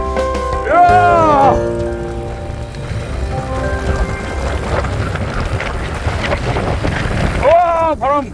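Wind roars steadily across the microphone during a mountain bike ride over the 밥봉 and 선자령 ridges, loud and gusty throughout, with excited voices calling out near the start and end.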